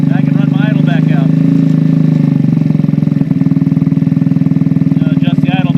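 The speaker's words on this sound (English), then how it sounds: "There we go, now it's idling. Give it a little bit. See how it's sped up?" A stock 49cc GY6 scooter engine (139QMB) fitted with a 21mm PWK carburetor idles close up with a loud, steady putter, then its speed rises slightly as the throttle is blipped, while someone talks over it.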